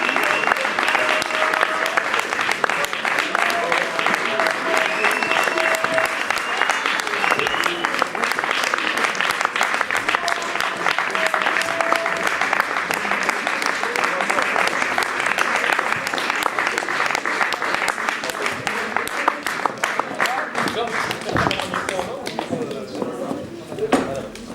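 An audience at a slam poetry show claps continuously for a performer walking to the stage, a full, even wash of applause that holds for a long stretch before easing slightly at the end.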